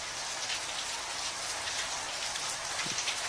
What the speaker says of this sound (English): It's raining out here, man.